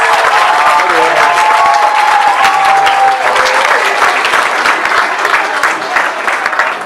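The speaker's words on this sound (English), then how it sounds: "Let's give a huge round of applause for" A large crowd at an elementary school fifth grade graduation bursts into loud, sustained applause with cheering voices mixed in, the clapping dense and continuous throughout.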